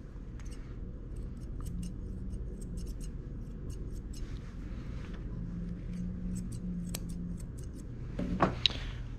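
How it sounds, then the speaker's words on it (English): Grooming scissors trim the feet of a matted Shih Tzu, a quick series of crisp, quiet snips over a low room hum, with a small burst of handling noise near the end. "now what I'm gonna do is just trim up his feet"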